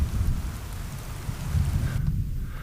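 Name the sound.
rain and thunder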